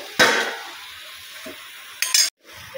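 Nigella seeds (kalo jeere) land in a hot wok with a short burst of sizzle and clink, followed by a faint tap and then a second brief crackling sizzle before cutting off.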